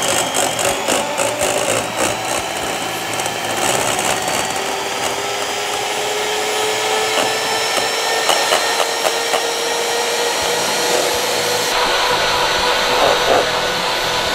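An electric hand mixer whisks two egg whites until stiff while pudding is being made, a steady high whirring drone running continuously and fairly loud throughout, alone with no talk.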